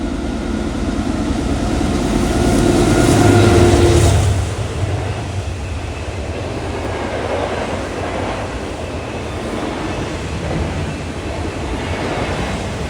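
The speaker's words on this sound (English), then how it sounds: "This NS train is an intermodal train that runs from Landers, Illinois to Norfolk, Virginia, which is running with a AC44 C6M in the lead" A Norfolk Southern double-stacked intermodal freight train led by an AC44C6M locomotive passes with a steady rumble, loudest early on as the lead engine goes by, then a continuous rolling rattle of railcars, with no talking.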